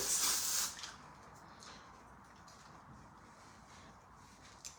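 A short, sharp hiss of an aerosol hair texture spray bursts out at the start, then fades into quiet background noise.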